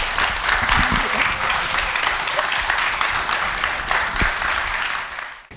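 Sustained audience applause after a church history lecture in Yanghwajin Hall, a steady dense clatter of many hands clapping that fills the room, then tapering off at the very end.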